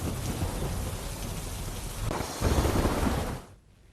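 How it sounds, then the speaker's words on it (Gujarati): Heavy unseasonal March rain pours down steadily in Dwarka, Gujarat, with gusty wind roaring over it, swelling louder near the end before cutting off. "દ્વારકામાં સુસવાટા મારતા પવન સાથે માવઠું પડી રહ્યું છે"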